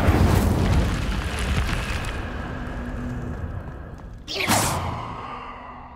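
The Incendio fire spell is cast in Hogwarts Legacy: a loud roaring rush of flame and noise builds, drops away briefly, then a sudden bright fiery burst whooshes out near the end, with no voices.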